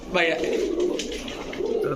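Teddy, Pankhi and Saharanpuri pigeons coo softly inside a bird shop, a brief low burble heard under someone talking nearby.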